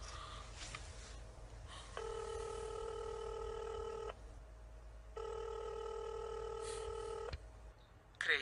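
Two long steady telephone tones from a phone call attempt in a Spanish-dubbed action film, each lasting about two seconds with a pause between, over a quiet background hum.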